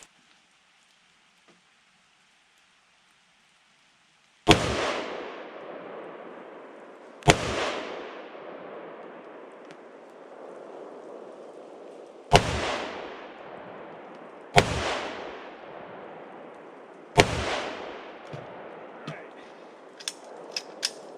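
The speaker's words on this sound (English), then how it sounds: "I'm going to shoot the upper left." Rifle shots with 55 grain bulk ammunition at an outdoor range: five loud, sharp cracks spaced a few seconds apart after a quiet start, each followed by a fading echo.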